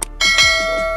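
A short notification bell sound effect gives one bright ringing chime that lingers briefly, clear and alone.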